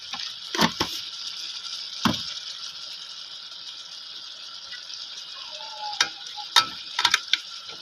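Country-style chicken curry stirred in a pan after chilli powder goes in: a steady soft sizzle runs throughout, broken by a few sharp spoon scrapes and clinks against the metal, with no talking.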